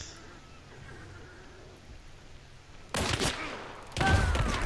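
Gunfire in the video game Hunt: Showdown: two loud, sharp bursts about a second apart break in after a stretch of quiet ambient background, the second followed by a ringing tail.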